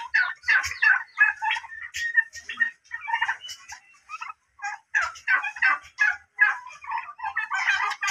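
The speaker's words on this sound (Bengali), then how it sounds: "এই যে রয়্যাল মোরগটা অনেক সুন্দর।" Chickens, a royal rooster and turkeys in a poultry pen. Repeated bursts of clucking and gobbling calls come close and loud in quick, uneven runs with short pauses between them.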